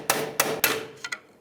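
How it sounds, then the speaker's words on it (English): A hammer strikes a pry bar to bend back a peened washer on the inner tie rod of a 2003-09 Toyota 4Runner, giving five sharp metallic blows, three evenly spaced then two quicker, loud and close. "So use a pry bar and a hammer and just kind of bend it the opposite way."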